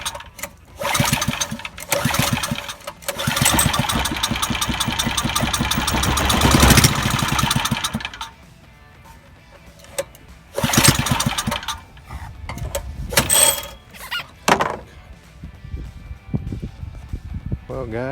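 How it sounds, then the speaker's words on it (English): A small engine with its carburetor removed runs on brake cleaner, sputtering in loud bursts of rapid firing that catch, die away to near silence and restart several times, heard up close. "the brake clean is what's going to be running the engine while it's smoking dope"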